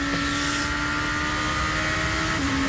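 A GP2 race car on slick tyres at an Italian circuit, its engine holding a loud, steady high-pitched whine that drops slightly in pitch near the end.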